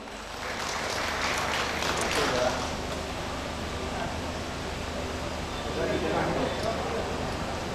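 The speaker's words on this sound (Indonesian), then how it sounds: "Mohon berkenan Pak Haryanto, boleh kita berikan tepuk tangan yang meriah." An audience at a business forum claps steadily, a broad wash of applause that swells slightly early on, then holds at a moderate level until the end.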